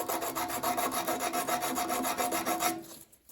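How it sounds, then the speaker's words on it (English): Hand sanding of wooden knife scales for a woodcraft knife kit, a steady rhythmic rasping scrape of repeated quick strokes, close and fairly soft, stopping abruptly at the end. "I'm going to slowly sand these until I get this to fit just perfectly"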